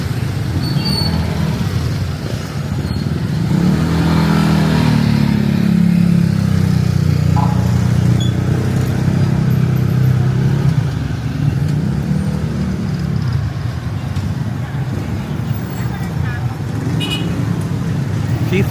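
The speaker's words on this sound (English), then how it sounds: "Traffic, always traffic in Balibago." Busy street traffic in Balibago at night, with cars and motorcycles passing and engines revving continuously at close range, a steady loud roadway rumble throughout, with a person talking over it.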